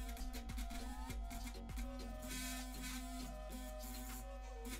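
An electric toothbrush pressed against a computer mouse, a steady buzzing rattle with rapid clicking and a few heavier knocks, close and continuous.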